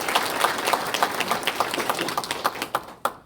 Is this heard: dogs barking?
no